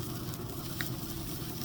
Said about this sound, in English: You can hear a little sizzle going on.